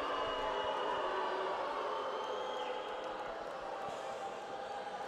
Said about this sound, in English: Crowd don't like it.